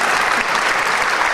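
An audience at a motivational seminar for students claps loudly and steadily in a brief, dense burst of applause.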